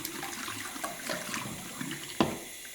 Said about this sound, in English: throw it in the sink, and then turn on my hot water. This bowl begins to fill up